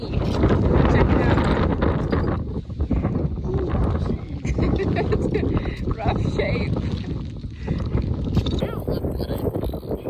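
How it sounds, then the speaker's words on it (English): Strong wind buffets the microphone in a steady roar on a rainy English riverbank while a person talks over it. "Windy and rainy."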